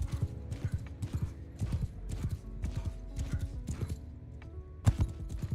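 A horse gallops in the video game Mount & Blade II: Bannerlord, an open-field battle with rapid, rhythmic hoofbeats close by, plus faint clanks and a brief sharp impact near the end, with no voices.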